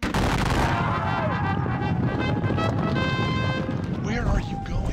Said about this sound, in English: Damn French artillery. Actually, that's my artillery. Defensive fire support.